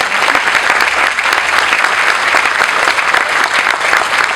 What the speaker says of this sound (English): So we should clap for that.